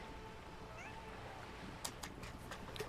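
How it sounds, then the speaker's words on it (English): A cat in the video game Disco Elysium gives a faint, short meow, followed by a few soft clicking sounds over low background noise. "You little kitty cat."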